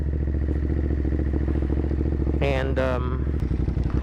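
A 2021 Ducati Monster 937 naked motorcycle engine runs steadily up close, its throb settling toward idle as the bike comes to a stop, with a brief voice speaking over it near the end.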